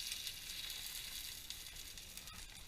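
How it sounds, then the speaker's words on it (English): Lentil curry burgers frying in hot olive oil in a pan, a constant faint crackling sizzle with small pops and no talk. "So as we put the burger in, sounds like this."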